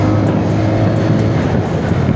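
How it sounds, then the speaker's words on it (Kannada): A TVS Raider 125cc motorcycle's engine and exhaust drone steadily at speed on a highway in power mode, a loud continuous low rumble mixed with wind noise and no talking. "ಆ ಇಂಜಿನ್ ಎಕ್ಸಾಸ್ಟ್ ನೋಟ್ ಕೇಳ್ತಾ ಇದ್ದೀರಾ"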